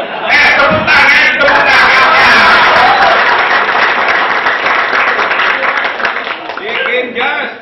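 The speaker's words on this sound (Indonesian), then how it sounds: "Tepuk tangan." A crowd at a political gathering in Cirebon breaks into sustained, loud applause that runs for several seconds and fades near the end, with voices calling out over the clapping.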